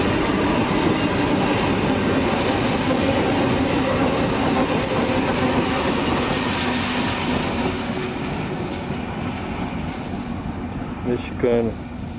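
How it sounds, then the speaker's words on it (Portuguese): A heavy freight train rumbles past close by with a dense, loud roar of rolling wheels and rail clatter, easing slightly toward the end, with a faint squealing rattle near the close. "Vai cruzar o trem aqui, ó."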